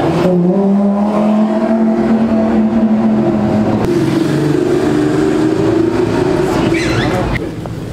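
A car engine revs loudly and steadily at a car meet on the Haspengouw Tour, a deep rising and falling roar held for several seconds, with people talking nearby.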